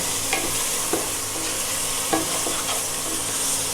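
Ground spice powder frying in a pan as it is stirred, a dense continuous sizzle with soft periodic scrapes of the spoon, close and fairly loud, no voices.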